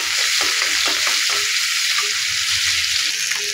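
Chopped onions sizzle in hot oil in a pan, a steady, loud hiss with a crackle that stays constant throughout, no voices over it.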